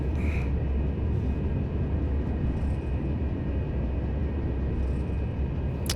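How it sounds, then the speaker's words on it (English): Rolls-Royce RB211 jet engines on an L-1011 at takeoff in a Prepar3D flight simulator, a steady, loud broadband roar with a constant low rumble and faint tonal whine held throughout, no voices. "These RB211 Rolls Royces really kick up a bit of a lot of power"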